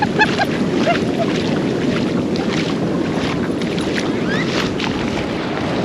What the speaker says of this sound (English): A big wave came and kind of scared him away.